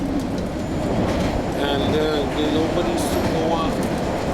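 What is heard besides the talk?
MBTA Red Line subway train riding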